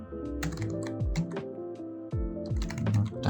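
Code is typed on a computer keyboard in quick, uneven bursts of close key clicks with short pauses, layered over soft background music.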